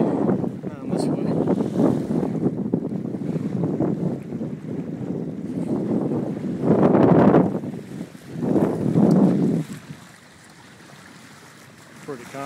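A Pearson 26 sailboat on a calm sail from Wrightsville Beach toward Carolina Beach, North Carolina, with steady wind buffeting and water rushing along the hull, swelling in gusts and easing near the end.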